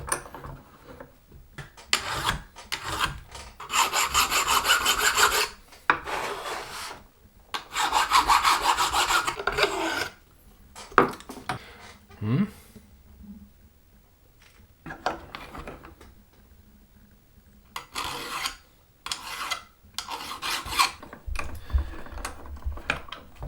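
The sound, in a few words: filing down sharp threads on fittings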